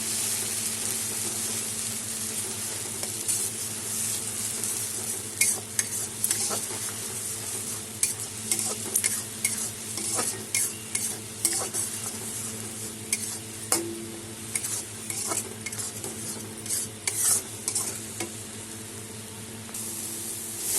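Chilli, turmeric and cumin powders being stir-fried together in a pan for a Bengali fish curry make a close sizzle, with repeated rhythmic spatula scrapes that grow more frequent toward the end.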